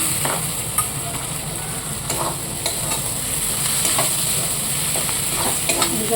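Meat fries in its own fat in a pan with a continuous close sizzle and hiss, with occasional scrapes and clinks of stirring scattered throughout; no one speaks.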